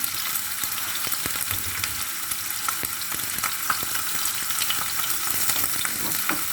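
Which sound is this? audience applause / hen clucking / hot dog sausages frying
hot dog sausages frying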